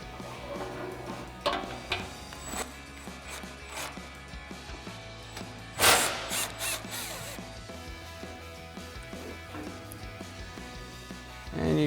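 A power tool, likely an impact gun or drill, spins out 12mm skid plate bolts under a Toyota Tundra, giving short intermittent whirring bursts and a louder burst in the middle against a steady mechanical background.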